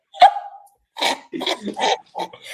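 A dog barks indoors, first with one sharp yelp and then with a quick run of rough barks and whines, loud and close, with no talking.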